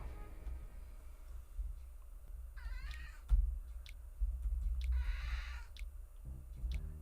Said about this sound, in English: Y'all hear my cat meowing?